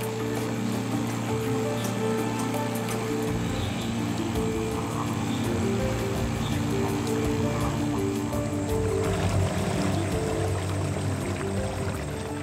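A boat's outboard motor drones steadily on a river in a caiman habitat, a continuous low engine hum with splashing water for the whole stretch and no talk.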